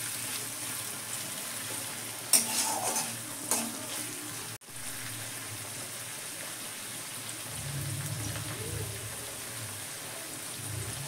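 Onion and tomato frying with salt in a pan, a steady soft sizzle with a few louder stirring scrapes early on and a low rumble later, faint and close, no voices.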